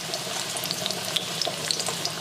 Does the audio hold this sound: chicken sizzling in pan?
yes